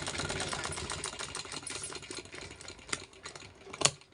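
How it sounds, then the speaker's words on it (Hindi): A sewing machine runs steadily while double stitching fabric, a fast, even mechanical rattle at moderate volume, with a couple of clicks near the end. "उसके बाद फिर यहाँ से डबल सिलाई इस तरीके से लगा।"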